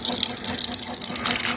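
Water running from a household tap, a steady hissing gush that is close and continuous and has no voices over it.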